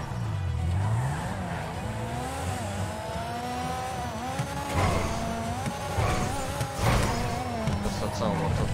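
A car engine in a roleplay video game during a bank heist getaway revs and surges with rising and falling pitch, loud and continuous, while voices talk over it.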